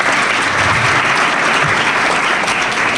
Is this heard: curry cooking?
no